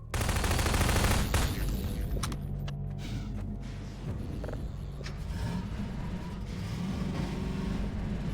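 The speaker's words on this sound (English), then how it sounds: "Just listen to how a Combine soldier's gunshots change as you drive towards them." Combine soldier gunfire in Half-Life 2, heard from a moving buggy: a loud, dense burst of rapid shots at first, then a steadier rattle of fire over a rumbling vehicle engine.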